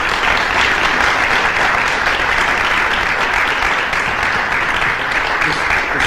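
A large audience applauds loudly and steadily for six seconds, a dense continuous wash of many hands clapping with no breaks.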